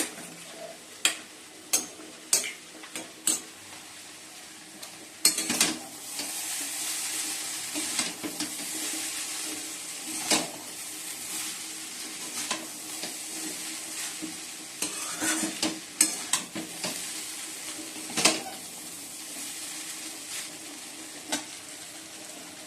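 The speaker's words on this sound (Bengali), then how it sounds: "আর এদিকে চিলি চিকেনটা বসিয়ে দিচ্ছি গরম করতে" Chilli chicken is reheated in a pan: a steady sizzle runs throughout under repeated sharp scrapes and clacks of a spatula stirring against the pan, close and fairly loud.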